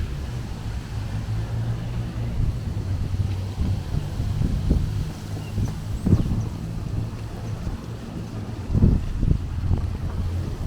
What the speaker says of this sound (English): You can see how windy it is. It is windy today.